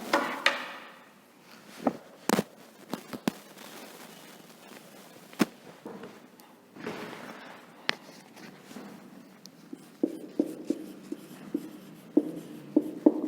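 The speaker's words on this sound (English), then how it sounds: "Let me write the keyword." A teacher writes a keyword on a classroom board during a social studies lesson, producing scattered sharp taps and scratchy strokes with quiet gaps between them and no talking.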